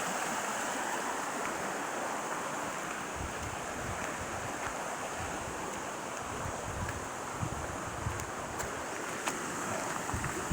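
Steady rushing flow of a creek running beside a collapsing, eroded rural road on Tolley Hollow, continuous and fairly close with some wind noise buffeting the microphone and no talk.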